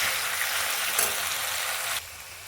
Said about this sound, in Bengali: আদা দিয়ে মশলা কষানো শুরু করেছি আদাটা একটু কষিয়ে নিই